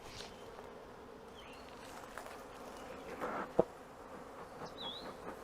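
Honey bees buzz around an open hive in a faint, steady hum, with a few louder passes of individual bees close by and a brief knock partway through.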